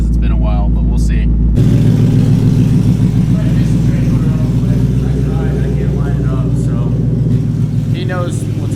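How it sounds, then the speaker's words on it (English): A car engine running with a possible misfire, loud and steady throughout, starting abruptly after a brief lower rumble, with an uneven low pulsing; voices talk faintly over it. "Am I having a misfire? The car kind of sounds weird."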